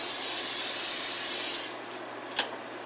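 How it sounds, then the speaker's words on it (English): Olive oil cooking spray hissing onto a pan, a steady loud spray lasting about a second and a half before cutting off, followed by a quiet room and a faint clink. "I'm going to go ahead and spray my pan with olive oil spray"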